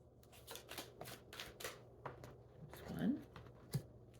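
Tarot cards being shuffled by hand, a run of soft riffling flutters and taps at an uneven rhythm, close and fairly quiet, ending with a small thump as the deck settles.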